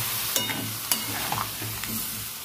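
Spices, potato, onion, ginger and garlic stir-fried in a pan for a Bengali potato-and-egg dish, with a steady low sizzle and a few sharp spatula scrapes and clinks close by.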